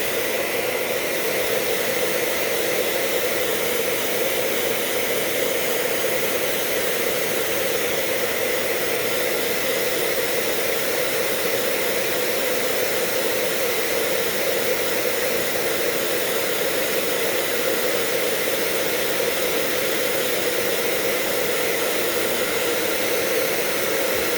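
A hair dryer blows continuously for the whole stretch, a loud, even airy whoosh with a steady hum and no pauses.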